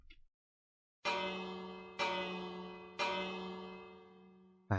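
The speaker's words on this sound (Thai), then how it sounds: "เราต้องตีระฆังสักเล็กน้อยนะครับ" A temple bell in the Minecraft video game is struck three times at even one-second intervals, each strike ringing out with a bright metallic clang and long shimmering decay, alone in otherwise quiet surroundings.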